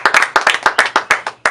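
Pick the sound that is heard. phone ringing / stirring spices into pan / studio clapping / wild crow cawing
studio clapping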